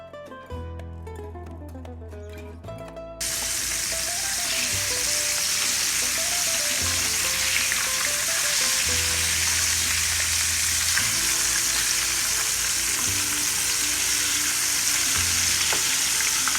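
Pieces of flour-coated pork for sweet and sour pork drop into hot oil and fry. After a brief musical opening, a loud, steady sizzle fills the rest of the clip, with music playing underneath.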